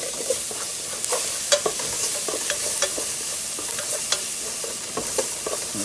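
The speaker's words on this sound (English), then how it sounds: "These onions have been cooking here for about 5-7 minutes or so. And got my 2 tablespoons of garlic in there." Onions and two tablespoons of garlic sizzle steadily in a pot for Zuppa Toscana, a constant close crackle broken by scattered clicks and scrapes of stirring.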